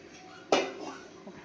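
A metal strainer knocks once against a pan while hot oil is strained after frying bhungla, a single bright clank followed by softer scraping and a short tap, fairly close.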